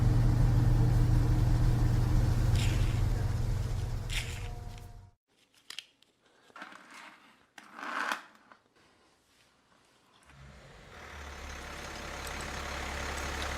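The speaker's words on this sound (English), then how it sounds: "Car." A car engine hums steadily at close range, then drops away into a stretch of clicks and rustling bursts. A steady engine rumble returns near the end.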